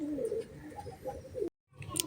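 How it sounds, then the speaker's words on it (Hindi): A pigeon cooing close by in soft, low repeated throaty calls, broken by a brief dropout before more cooing and a faint chirp at the end. "अब मैं आपको वो दिखाता हूँ पहले कबूतर"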